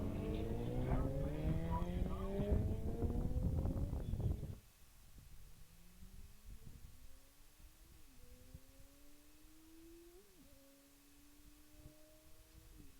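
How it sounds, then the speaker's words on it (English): Loud engine roar from a drag-race launch by a Corvette dominates the first few seconds, then fades to distant, rising and falling car engine sounds with faint background noise. "Cobra, a Corvette. Derek Maines is on the go"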